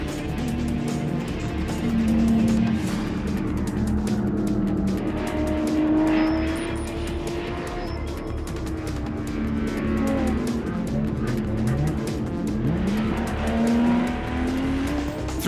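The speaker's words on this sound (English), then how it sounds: "the cars race through the bus stop, a series of quick 90-degree turns" Race cars thread a chicane of quick 90-degree turns on a race track. Engines surge and fall in pitch one after another, and tires squeal through the corners, loud and close the whole way.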